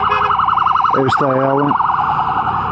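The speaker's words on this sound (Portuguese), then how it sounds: "Olha, temos que desviar aí, que é para dar aqui lugar à ambulância passar." An ambulance siren wails steadily in a fast rising and falling pattern, passing close to a Yamaha MT-10 motorcycle on the road, with a short second horn tone briefly layered in and a rider's voice speaking once.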